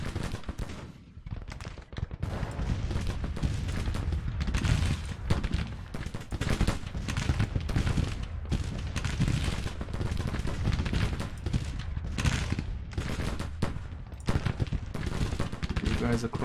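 Artillery bombardment in the Civil War strategy game Grand Tactician, with dense rolling booms and crackling volleys of gunfire that continue loudly and without pause.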